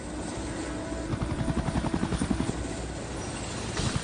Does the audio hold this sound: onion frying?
no